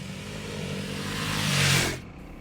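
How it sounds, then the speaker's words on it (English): A 2021 Honda CRF300L or 2021 Kawasaki KLX300 dual sport motorcycle, its engine droning steadily and swelling as it passes close, then cutting off abruptly, with wind noise and no talk. "We're riding the 2021 Honda CRF300L against the 2021 Kawasaki KLX300"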